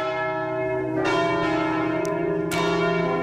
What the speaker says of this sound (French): C'est Les cloches. Les cloches, mais pas n'importe lesquelles.